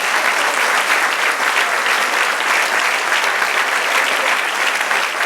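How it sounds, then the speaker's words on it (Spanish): Sustained applause from a church congregation during a sermon, dense and steady for the whole stretch with no voice on top. "Denle otro aplauso al Señor"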